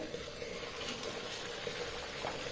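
Beetroot wheat-flour puri frying in hot oil, a soft, steady hiss and sizzle of bubbling oil that stays even and fairly quiet throughout, with no voices.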